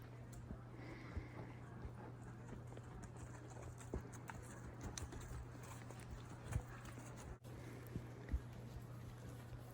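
Hooves clip-clopping at a steady walking pace, several horses moving together on a mountain trail in Wyoming, over a low steady hum, fairly faint and without talk.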